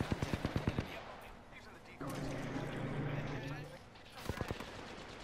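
Gunfire from the video game Apex Legends, a quick burst of rapid sharp shots, then a sustained noisy stretch and another burst, loud and close.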